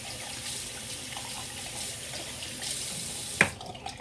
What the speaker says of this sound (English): you are going to turn on the water and get some soap on your hands